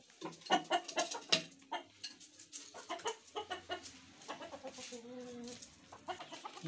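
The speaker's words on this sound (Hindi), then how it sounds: "पहले हम अपने मुर्गा मुर्गी को निकालें। ये असील जो इधर होते हैं" Aseel chickens, a rooster and hen, cluck repeatedly in a rapid, uneven series of short calls, fairly close and moderately quiet, with a drawn-out crowing note near the end.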